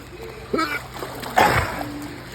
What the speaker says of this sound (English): now you gotta see me breathe in and swallow a bunch of water